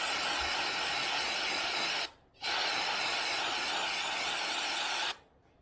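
Brake cleaner sprays from an aerosol can onto an old car's oil filter in two loud, sustained hissing bursts of about two and three seconds, separated by a short pause, with no talking.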